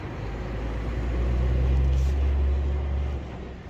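A truck pulling away on a wet road, its low engine rumble swelling steadily then easing off as it sets off driving, fairly close and heard alone without talk.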